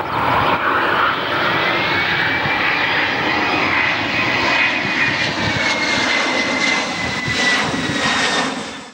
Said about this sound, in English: military transport aircraft